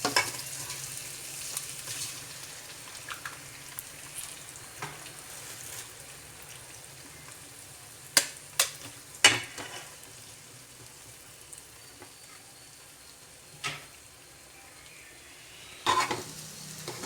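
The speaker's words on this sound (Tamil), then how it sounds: "நல்லா வந்து நம்ம முட்டை வந்து தனியாக நல்லா ஃப்ரை பண்ணி எடுத்துக்கிட்டோம்" Eggs fry softly in a pan under a quiet, continuous sizzle, broken by a few sharp scraping clacks as they are stirred, heard close with no speech.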